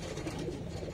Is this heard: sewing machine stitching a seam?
no